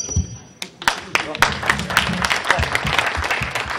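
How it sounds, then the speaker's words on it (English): Audience applause at a Q&A session after a screening of Invaders From Mars, a burst of clapping spreading through the room with scattered voices and chatter mixed in. "yes, applaud that."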